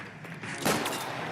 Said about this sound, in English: What's with all the firecrackers?